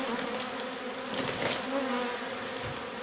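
Honey bees from a colony lodged inside a wall buzz in a dense, steady hum, close and continuous, with no voices.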